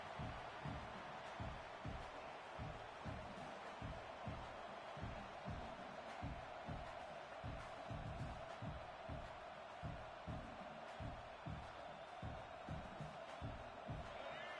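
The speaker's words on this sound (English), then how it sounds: "This crowd, full throat, spreading the eardrums and letting them know it's going to be a long day." A packed stadium crowd at an NCAA college football game roars at full volume in a steady, sustained wall of cheering, with rhythmic pulses running through the noise.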